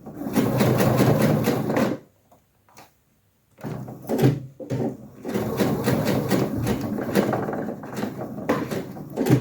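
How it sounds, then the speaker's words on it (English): Sewing machine running long basting stitches on chino fabric, loud rapid mechanical rattling in bursts with a short pause and brief stop-start in the middle. "This part here is sewn with a basting stitch,"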